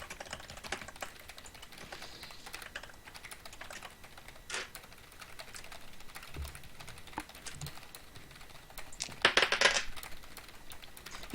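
Rapid clicking of a mechanical keyboard with Cherry key switches, typed in short bursts at close range, with a sharper cluster of keystrokes near the end over faint room noise.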